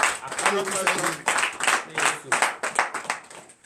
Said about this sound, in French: Et donnez l'acclamation